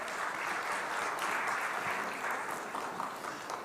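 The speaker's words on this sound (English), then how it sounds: "Give them a good round of applause." A conference audience in Kolkata gives a steady round of applause, heard fairly faint and from a distance, with even, continuous clapping and no talking over it.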